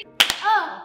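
A small group tries to clap in unison on a count but lands as two sharp, close claps, followed by a brief rising voice in a quiet room.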